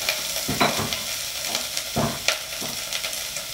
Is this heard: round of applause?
no